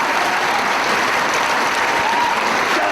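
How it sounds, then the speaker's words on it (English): A wrestling crowd at an ROH Dragon Gate event claps loudly and densely in a brief, sustained burst of applause. "The crowd a little bit more appreciative when Delirious does it."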